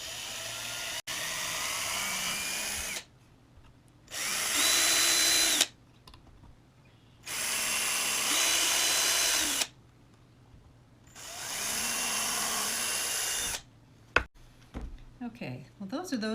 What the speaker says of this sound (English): So forgive me while I drill.